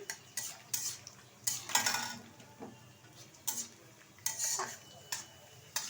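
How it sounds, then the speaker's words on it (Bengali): Cashews and raisins frying lightly in oil in a wok, stirred with a metal spoon that scrapes and clinks in repeated strokes over a faint sizzle. "এখন এই তেলের মধ্যে দিয়ে দেবো কিছুটা কাজু কিশমিশ, আমি হালকা করে ভেজে নেব।"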